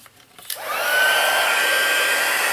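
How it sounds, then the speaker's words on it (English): Heat embossing tool switching on and blowing hot air, a steady loud whooshing hiss that rises after a brief click and holds close to the microphone. "now it'll be noisy for just a second here while I use the heat tool."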